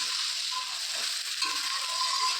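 Chickpeas cook in a home kitchen pan, giving a steady hiss of frying and sizzling with faint stirring scrapes, close and continuous with no talk.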